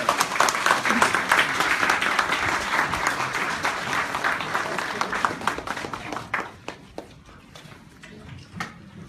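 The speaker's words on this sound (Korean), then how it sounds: "박수로 맞아주시기 바랍니다." Audience applause welcoming a speaker at an emergency panel discussion, loud sustained clapping from a large crowd that thins into scattered claps toward the end.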